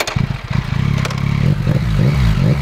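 A 2023 Yamaha MT-09 SP motorcycle engine runs close and loud, throbbing with rapid pulsing firing beats and a rising rev at the start, then settling into a steady, slightly building throaty rumble.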